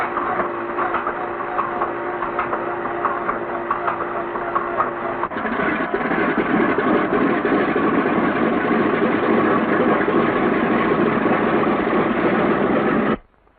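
A B-17 bomber's large piston engine runs steadily after starting, its rough droning roar growing slightly louder midway, then cuts off abruptly.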